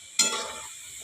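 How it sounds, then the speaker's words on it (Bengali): Potato french fries sizzle in hot oil, a sudden burst of bubbling crackle that settles into a steady, close frying hiss with no talking. "ভাজা চলছে।"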